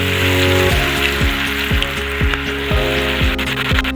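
Cabbage pakoda batter frying in hot oil gives off a loud, steady sizzle and bubbling, broken by regular soft clunks of utensils, with no one speaking.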